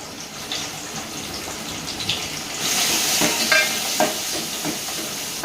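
Onions dropped into very hot oil for an eggplant and prawn curry, with a steady broadband sizzle that swells louder midway and carries a few clinks and stirring scrapes, no talk.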